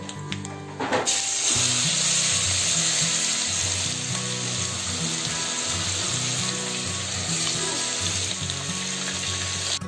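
Coarsely pounded green chili, ginger and garlic paste hits hot oil for a boiled potato bhaji, bursting into a loud, close, continuous sizzle that stays strong throughout with faint tool scrapes, no voices.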